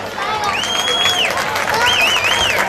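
A big round of applause for graduating high school band seniors at a football halftime ceremony, steady crowd clapping and cheering throughout under an echoing public-address voice.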